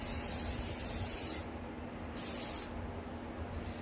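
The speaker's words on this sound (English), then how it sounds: "so sprayed that with Pam" Pam cooking spray misted into a Copper Chef egg maker in two bursts of steady broad hiss, close and fairly loud, the first about a second and a half long and the second shorter, over a low room hum.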